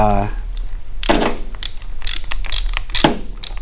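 A hand ratchet clicks in short bursts while bolts are snugged down on a Willys L134 engine's thermostat housing, with quick repeated metallic clicks and small clanks.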